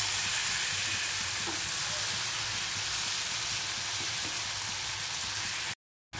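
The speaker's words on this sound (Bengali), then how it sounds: "এবার এর মধ্যে দিয়ে দেবো ভিন্ডি ফ্রাই। এটা দিয়ে ভালো করে মিক্স করতে হবে।" Fried okra hits sizzling gravy for bhindi masala and is stirred in, a loud, dense, steady hiss of frying with scraping stirs beneath, ending in an abrupt cut to silence.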